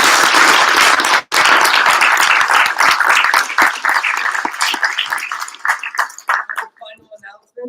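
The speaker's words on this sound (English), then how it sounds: "We can give one big round of applause to Brad." Loud, close round of applause from a panel discussion audience for a panelist, dense clapping for several seconds that thins into scattered claps and fades out near the end.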